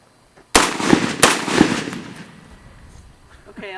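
A heavy gun fires two sharp, loud shots in quick succession, each followed by a long booming decay that fades out over a couple of seconds.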